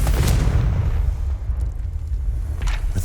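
Blasting Confringo spell going off in the Hogwarts Legacy video game, a loud deep boom that rumbles through the whole moment, with a second sharp burst near the end.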